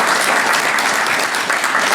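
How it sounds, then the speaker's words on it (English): Dense, continuous applause from a crowd at a veterans' recognition breakfast, even and lively for a couple of seconds. "Give him a round of applause."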